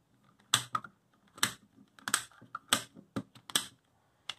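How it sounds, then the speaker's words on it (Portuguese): Plastic balls click and clack as a Rainbow Ball puzzle is twisted and scrambled, with about eight sharp, close bursts at irregular intervals and near silence between them. "Para embaralhar é só ficar mexendo assim, só ficar trocando as bolinhas de lugar."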